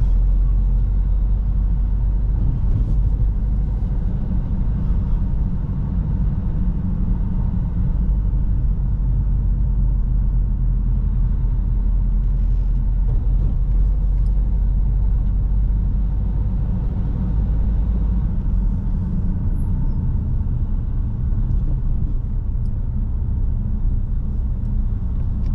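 Steady low road rumble from inside a car driving along Old Hall Lane in Longsight, a continuous engine and tyre drone with no speech, holding an even level throughout.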